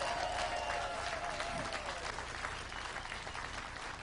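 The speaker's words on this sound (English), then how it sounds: "Give yourself an applause and a hand." Sustained applause from a large crowd at a political speech, continuous clapping at an even, fairly loud level throughout.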